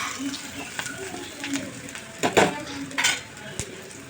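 Onion sautéing in a pan over medium gas, with a low sizzle under several clattering scrapes and knocks of a spoon stirring against the metal, close by, no voices.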